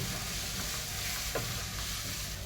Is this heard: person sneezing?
no